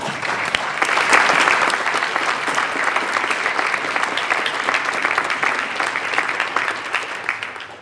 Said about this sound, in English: I would like to ask for a round of applause for the members of our panel